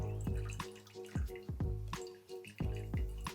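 Chili oil dripping from a jeow bong chili mixture through a sieve, with a series of close, distinct drips and splashes falling at an uneven rhythm.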